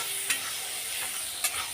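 Bitter gourd with salt and turmeric frying in a pan, heard as a continuous soft sizzle with two short scraping stirs, close and without any talk.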